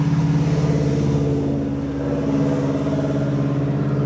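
A car engine drones steadily nearby, a continuous low rumble that dips briefly in the middle before swelling again.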